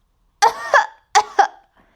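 A voice imitates a pony character's nasty cough: two pairs of harsh, close coughs in quick succession, then silence.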